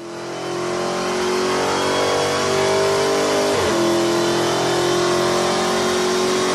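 A Kyosho Mini-Z RC car running on a dyno screams up through its gears: a loud, rising electric-motor whine that climbs steadily, breaks once at a shift midway, then keeps pulling at high pitch.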